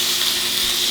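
Beef jerky searing in a hot pan gives a loud, close, continuous hissing sizzle, brief and steady with no other sounds.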